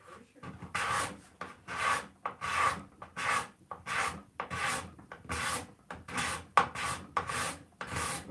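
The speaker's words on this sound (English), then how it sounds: "I'm going to grab the card scraper. With the card scraper, I can do a little more spot work." A card scraper scrapes across wood in regular rasping strokes, about a dozen close, dry pulls in a steady rhythm.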